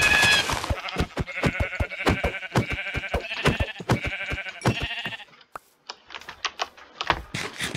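Sheep in the Minecraft video game bleat repeatedly over a steady, rapid clatter of keyboard and mouse clicks, with a brief quieter gap before the bleats and clicks resume.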